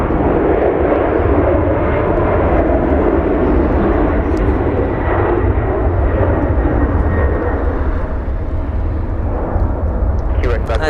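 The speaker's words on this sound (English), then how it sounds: "as we see the Delta 767 depart" A Delta Boeing 767 airliner departs Los Angeles International Airport with a loud, steady jet-engine roar that fills the whole stretch without a break.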